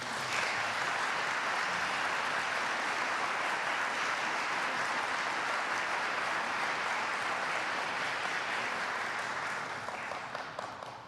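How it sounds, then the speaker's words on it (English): Sustained audience applause at a Gloucester County Veterans Day ceremony, a dense, even crowd clapping that holds steady for about ten seconds before tapering off slightly at the close. "please join me in a round of applause for all the men and women involved in putting on this ceremony today"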